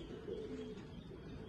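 A pair of Kamgar pigeons from Pakistan give a soft, low coo, faint and close against quiet background noise.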